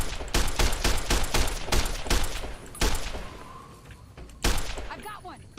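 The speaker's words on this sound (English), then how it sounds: "Why are you shooting at me?" Rapid bursts of gunfire from Fallout: New Vegas crack in a quick volley of about eight shots, then two louder isolated blasts follow after pauses, with a voice talking faintly in between.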